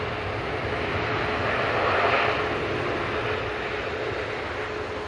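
An Etihad Boeing 787-10 departs with a steady, broad jet roar that holds for the whole stretch, swelling slightly midway as the airliner climbs out at the airport.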